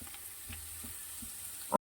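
Food fries in a pan with a low, steady sizzle for under two seconds, ending in a brief clatter just before it cuts to silence.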